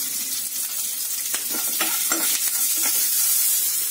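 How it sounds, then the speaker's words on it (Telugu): Dry red chilies, green chilies and curry leaves frying in a pan, crackling and sizzling continuously with a few sharp pops and spatula stirs, close and moderately loud. "ఎండుమిరపకాయలు, పచ్చిమిరపకాయలు, కరివేపాకు ఈ 3 వేగి మనకి మంచి సువాసన వస్తున్నాయి"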